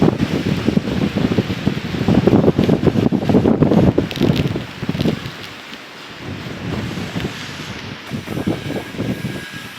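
Typhoon Maymay's strong wind and rain buffet the microphone in heavy roaring gusts that ease after a few seconds into a lower, steadier rush.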